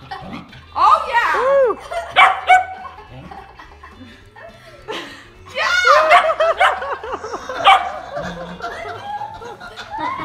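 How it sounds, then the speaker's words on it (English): A dog barks several times in short bursts indoors, mixed with people cheering, laughing and talking loudly during an at-home dance attempt. "Cute dog."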